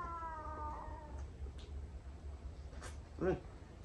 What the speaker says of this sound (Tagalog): May pusa dyan sa likod mo.